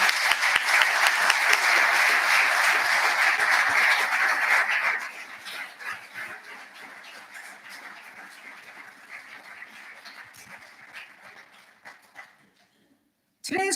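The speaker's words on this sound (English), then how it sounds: "put your hands together and give a clap for those who supported you in your journey" Graduates at a graduation conferring ceremony applaud their supporters, a broad crowd of clapping that rings loudly for about five seconds, then thins to scattered claps fading out before a brief cut.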